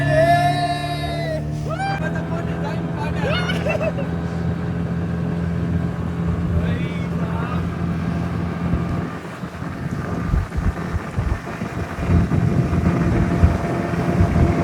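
A speedboat runs across the water with a steady engine drone and heavy wind buffeting the microphone, loud and close throughout, with some faint tonal sounds near the start.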